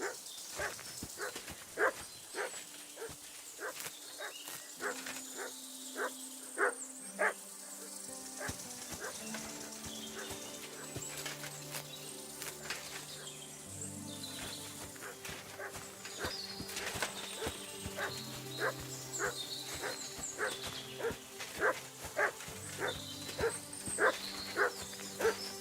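A dog in the game Kingdom Come: Deliverance II barks repeatedly in short yaps and whimpers throughout, fairly close, layered over game music, footsteps and ambient sounds, with occasional distant speech.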